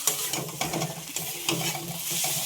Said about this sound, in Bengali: এই যে পটল থেকে আস্তে আস্তে তেল ছাড়ছে